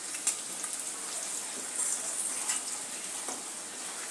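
Chopped onion fries in a pan with asafoetida for Kolhapuri misal, a steady close sizzle with faint crackles throughout.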